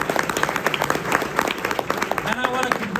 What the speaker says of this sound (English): Let's give Fade a big round of applause.